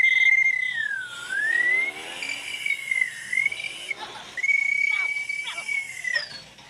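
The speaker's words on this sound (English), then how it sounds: "This one, it's a swanny whistle," A warbling toy swanee whistle with a small plastic bird-warble piece glides up and down in pitch with a fluttering trill, played close and loud across several sweeping phrases.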